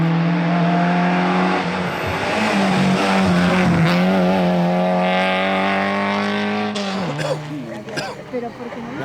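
A rally car at the Rally Ciutat de Valls tears past at speed, its engine note rising and falling loudly with a Doppler sweep, a near, roaring pass with crowd voices under it.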